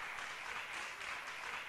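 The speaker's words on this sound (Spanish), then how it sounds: "Denle un aplauso bien fuerte al Señor" A church congregation claps together in a steady, fairly faint wash of applause that carries evenly through the brief moment without voices.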